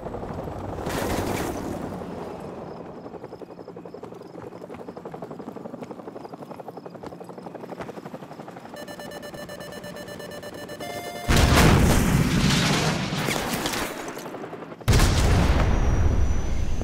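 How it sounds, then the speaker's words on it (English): A Stinger missile launches at a helicopter in Call of Duty: Modern Warfare Remastered: a steady rotor drone, a rising lock-on tone of stacked beeps, then a loud whooshing launch and a heavy blast filling the end. "So, grab another Stinger and fire again!"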